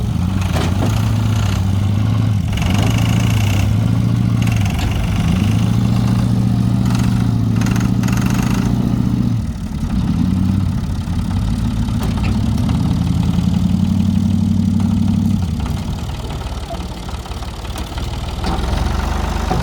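A tractor engine runs loud and close while ramming a stuck vehicle, its low rumble holding steady with a few dips and surges in load.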